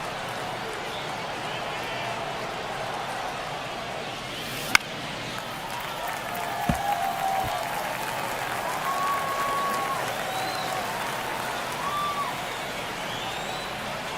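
Steady crowd noise fills a ballpark in MLB The Show 24 during a tense one-run ninth inning, a constant roar of murmuring and cheering with a sharp crack and a few faint thuds over it.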